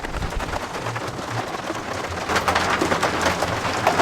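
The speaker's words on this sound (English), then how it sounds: "right now it is hailing outside in Steamboat Springs." Small hail, under marble size, falls outside in Steamboat Springs, Colorado, a dense steady patter and hiss against surfaces that grows a little louder toward the end.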